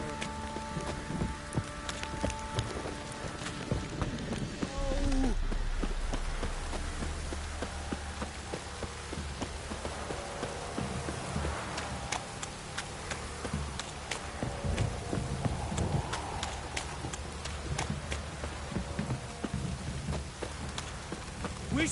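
Steady rain falls in a video game (The Witcher 3), a dense continuous patter with scattered sharper drops and a faint low rumble underneath.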